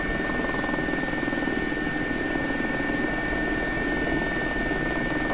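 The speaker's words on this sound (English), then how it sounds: "we'll approach the pad with a little bit of crab on from the north right hand side" Simulated air ambulance helicopter in X-Plane 11 approaching a helipad, its steady rotor and turbine drone loud and continuous throughout with no talking.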